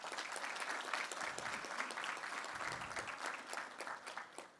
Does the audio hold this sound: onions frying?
no